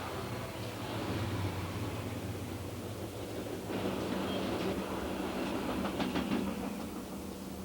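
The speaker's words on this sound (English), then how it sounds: "Sometimes a faster train overtakes a slower train." A passing train rumbles along the tracks in a steady, even roar that rises slightly as it nears, with faint rhythmic clatter of the wheels.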